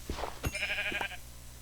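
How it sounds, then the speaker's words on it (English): Sheep in the Minecraft VR video game let out a single close bleat, a wavering nasal cry of about a second, with a few soft thuds and clicks just before it. "I can kill these sheep."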